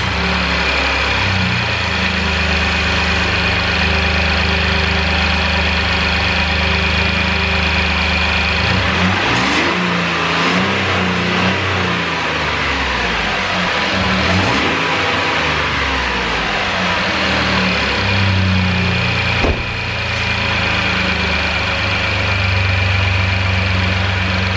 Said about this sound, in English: this is the first start with a cold air intake for aFE